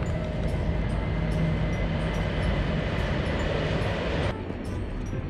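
A train rumbles past at close range with steady broadband rail noise that cuts off sharply near the end.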